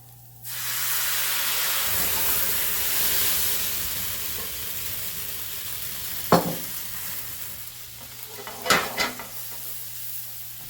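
Bourbon hitting a hot steak pan, a loud steady sizzle and hiss that flares up at once, with a few clinks and scrapes of the pan later on.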